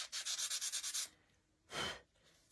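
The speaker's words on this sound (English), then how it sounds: "I'm going to sand that down" A clump on a glass cloche is sanded down by hand, a burst of about eight quick rhythmic rasping strokes, then a pause and one longer scrub, close and fairly quiet.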